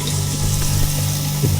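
Water running steadily from a tap in a house at night, a loud, continuous close rush with a low hum beneath it and no talking.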